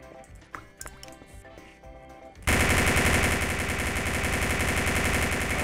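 Rapid automatic gunfire rattles out in a video game, a dense, loud, continuous burst that cuts in abruptly after quieter game sounds and keeps going to the end.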